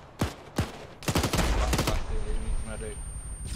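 ARMA video game gunfire: two sharp separate shots, then a dense rapid burst of overlapping rounds. A faint voice sounds under the tail.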